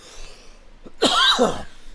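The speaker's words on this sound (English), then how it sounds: "Excuse me, I'm going to cough." A single close, forceful cough bursts out after a moment of quiet, with a short raspy tail.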